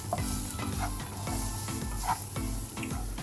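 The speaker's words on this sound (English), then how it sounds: "Now we're gonna add our mushrooms to the pan. See, you can see the mushrooms are getting started to be sauteed." Mushrooms sautéing in a pan for baked nachos lasagna, a continuous close sizzle with regular scraping strokes of a spoon stirring them.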